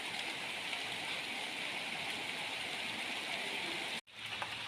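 Steady rain falls in the open, pattering on mango and date palm trees, a dense, even hiss filling the whole stretch before a brief dropout near the end.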